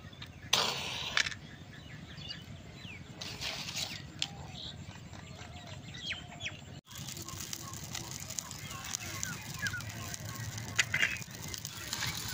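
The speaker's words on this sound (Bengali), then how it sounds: "আম পাতাটা পুড়তে শুনতেন কি সুন্দর তুর তুর তুর তুর শব্দ হচ্ছে" Mango leaves and twigs, damp from morning rain, burn in a small outdoor fire, giving faint, quick crackles and soft pops over a low rustle, with a few louder snaps and a voice speaking quietly nearby.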